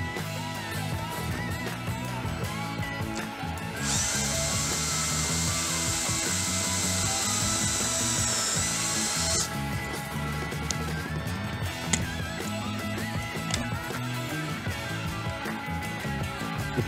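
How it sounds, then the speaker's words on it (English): A drill bit bores through clamped sheet metal with a continuous grinding whir and a high-pitched metallic squeal that rises midway, lasts several seconds, then drops back to a duller grind. "Clamp your metal down, put your drill bit right where you stamp your start point, and drill straight through."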